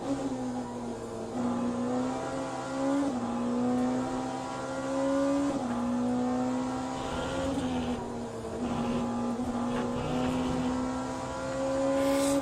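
GT race cars on the straight at Le Mans in the Le Mans Ultimate racing game, several engines droning loud and close, pitch climbing through gears and dipping at each shift, with no talk.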